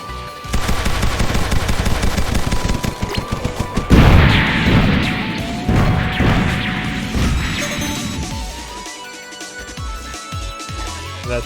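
Aircraft guns in Sky Rogue rattle off in a long, loud, rapid stream of shots, joined by a heavy crash midway, then taper into scattered impacts.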